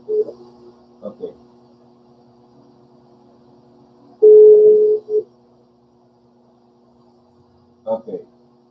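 Steady telephone line tone holds quietly under brief bursts of nearby speech, with a louder tone burst midway, during a redialed phone call.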